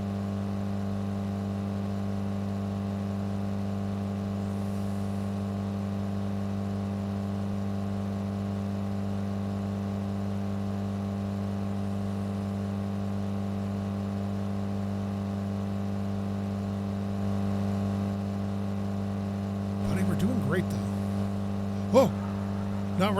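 A car engine in the driving game Drive Beyond Horizons drones steadily at a low, even pitch throughout, with a few brief clicks and knocks near the end.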